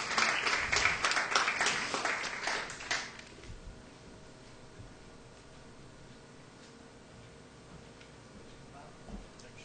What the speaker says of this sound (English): Would you give him a nice round of applause?